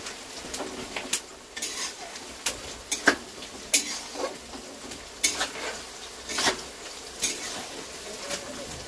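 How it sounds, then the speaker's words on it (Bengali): Onions sautéing in a pot for a meat curry, giving a steady sizzle broken by frequent sharp scrapes and clinks of a spoon stirring against the metal, close and fairly loud with no talking. "আমার পেঁয়াজ অর্ধেক অর্ধেক হয়েছে, আর পুরো তো করবো না, কারণ কষতে কষতেই হবে।"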